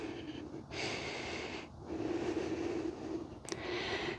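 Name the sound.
deep breaths in a yoga plank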